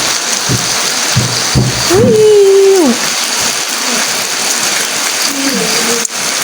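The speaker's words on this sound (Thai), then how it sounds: "ฝนตก" Steady rain hisses in the background throughout, with a hum of something nearby, a couple of soft knocks, and a brief voice humming a sliding tone.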